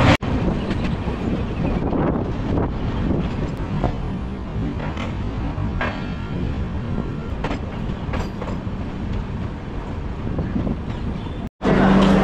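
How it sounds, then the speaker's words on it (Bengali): The Sealdah–Jalpaiguri Road Humsafar Express rolls into Kishanganj station, heard from aboard as a loud, continuous rumble with rhythmic wheel clatter and a brief dropout near the end. "তাহলে চলুন এখন ট্রেন আমার ঢুকছে কিষানগঞ্জে।"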